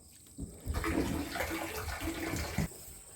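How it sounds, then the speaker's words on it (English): Stream water gushes out of a small pipe crossing a farm field, a steady splashing rush that begins abruptly and stops after a couple of seconds, close and fairly loud. "So the water is running clear across this field in this little pipe from that stream,"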